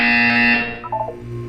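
A loud electronic buzzer from the Portal 2 video game, a harsh, steady tone held for about half a second before it cuts off, leaving a brief, softer electronic trail.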